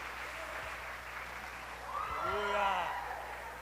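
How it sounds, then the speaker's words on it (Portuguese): Church audience at a cell-group celebration breaks into applause, a steady wash of clapping that swells toward the end while a voice carries over it. "Dá um aplauso para Jesus."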